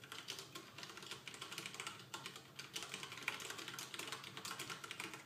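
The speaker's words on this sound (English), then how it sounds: "I can type quite quietly on it." Rapid, steady typing on a Leopold mechanical keyboard fitted with Cherry Brown tactile switches, a dense run of soft, close clicks and clacks that continues without pause and is heard alone, with no voice over it.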